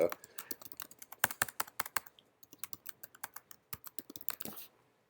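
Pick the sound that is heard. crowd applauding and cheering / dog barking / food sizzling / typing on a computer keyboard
typing on a computer keyboard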